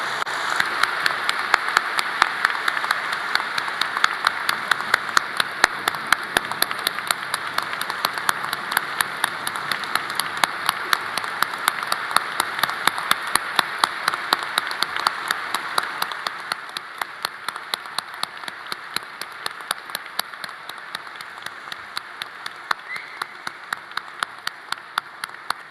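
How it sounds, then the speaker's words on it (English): An audience applauds honorees at a student recognition ceremony, a steady, sustained patter of many hands clapping for nearly half a minute, thinning slightly toward the end. "please join me in a rousing round of applause for our honorees"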